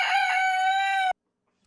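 A rescued rooster lets out a single loud, close crow that lasts about a second before cutting off to silence.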